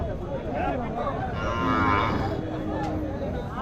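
Cattle low and moo up close at a busy Tuesday cattle market, one long call rising over a steady background of crowd noise, with faint voices underneath.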